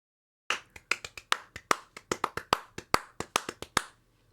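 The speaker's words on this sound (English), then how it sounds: "Bunch of clapping." Around fourteen sharp hand claps, recorded close and dry, ring out in a loose, slightly uneven rhythm after a moment of silence, each one crisp with a short decay and no talking.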